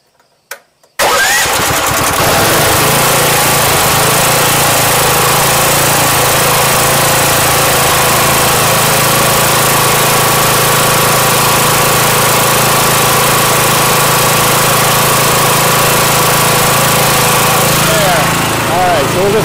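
A small engine runs on gas from a DFX4 charcoal gasifier. After a few faint knocks it catches and keeps up a loud, steady buzzing drone close by, which holds through the whole stretch.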